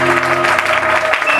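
A church congregation bursts into applause and acclamations during a service, a loud, dense wash of clapping mixed with sustained raised voices throughout a brief moment.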